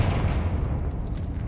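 A Confringo blasting spell fires in the Hogwarts Legacy video game, a dense, booming burst of explosive noise filling the whole moment, loud and close with no talk.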